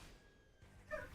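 A pet dog gives a single short, faint bark indoors, a quiet yip that stands out briefly against near silence.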